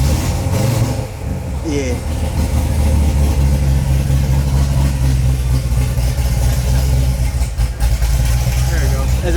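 An 850-horsepower Corvette Z06 engine runs loud and close with a steady low rumble, rising slightly as the gas is tapped, while a person speaks briefly over it.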